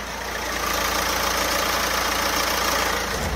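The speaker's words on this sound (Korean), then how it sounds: "지금 바로 엔진 소리 한번 자세하게 들려드릴게요" A 2018 Korean SUV's engine idles steadily close by with the bonnet open, an even, continuous mechanical drone with no voices.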